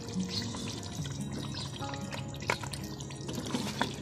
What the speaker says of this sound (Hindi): अब इसमें मैं क्रीम डाल दूंगी।